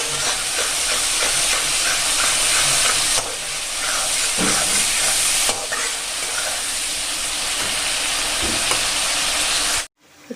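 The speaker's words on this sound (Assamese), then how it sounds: "এইখিনি হালধি আৰু জিৰা দিছোঁ সেয়া আৰু এইখিনি অলপ টাইম ভাজি লওঁ" Turmeric and cumin fry in hot oil for an egg curry with mushrooms, a steady loud sizzle and hiss that runs unbroken with slight shifts in intensity before cutting off abruptly near the end.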